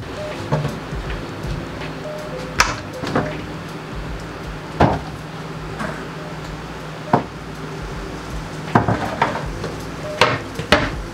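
Lid set onto a cooking pot in a home kitchen, several scattered metallic clanks and knocks heard close over a faint background hiss.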